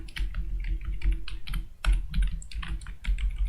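Typing JavaScript code on a computer keyboard: quick, irregular clicks and key clacks up close, with a low background hum and no voices.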